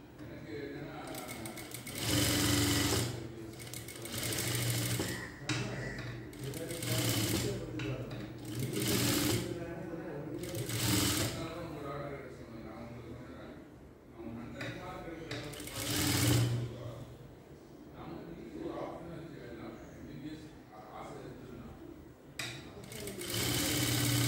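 Sewing machine stitching lining cloth along the top edge of a girl's skirt-and-top dress in a tailoring lesson, running in repeated bursts with short pauses, loud and close, with a voice talking over parts of it.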